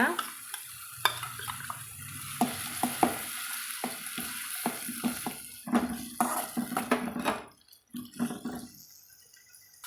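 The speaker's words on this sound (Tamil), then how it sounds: "நம்ம அரைச்சி வச்சுக்கிற மசாலா வந்து இது கூடவே சேர்த்தி வதக்கலாங்க" Mushrooms sautéing with ground masala in a pan for a mushroom gravy, a steady sizzle broken by repeated stirring scrapes and soft clatters, close and moderately loud with no talking.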